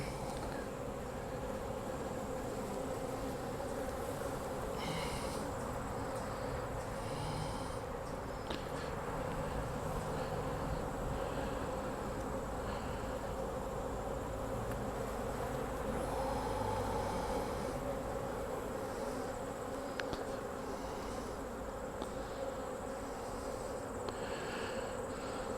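A colony of honeybees fills the air around hive combs with a dense, continuous drone, close and steady throughout, with occasional individual bees flying past more loudly.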